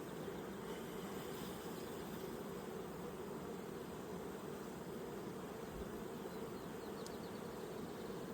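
Honey bees hum in a dense, steady buzz throughout an open hive inspection, close and continuous with no talking.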